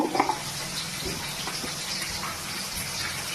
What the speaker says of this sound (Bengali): এর মধ্যে এবার একটু অল্প করে জল দিয়ে দিলাম।